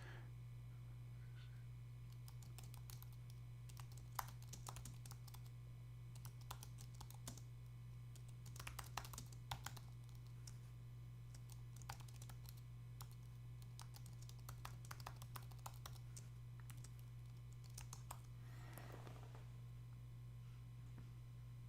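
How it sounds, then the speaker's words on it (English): Someone types on a computer keyboard in quick, uneven bursts of soft clicks over a steady low electrical hum, with no talking. "So one sec while I type this."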